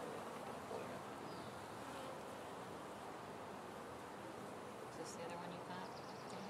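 Honey bees buzz steadily inside a hive box while its frames are inspected, a dense continuous drone with faint voices underneath.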